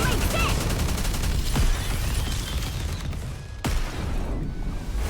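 Red Hood fires in the NIKKE video game: dense, continuous bursts of gunfire with sharp impacts, loud and close, with a voice briefly heard over the shooting.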